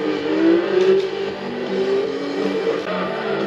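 Racing car engine in the Gran Turismo video game, specifically the mighty GDR, revving steadily with a continuous loud whine that rises and falls slightly, with no talk over it.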